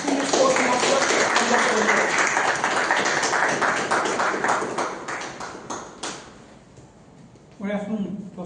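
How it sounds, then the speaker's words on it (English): Toastmasters meeting audience applauds the distinguished Toastmaster, a loud, dense burst of clapping that fades toward the end, with a voice coming in at the close. "Please give big applause to distinguished Toastmaster."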